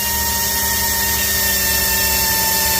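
A small block Chevy oil pump runs on a DIY oil pump dyno as its valve is cranked shut, giving a loud, constant mechanical drone with steady whine tones and no pauses.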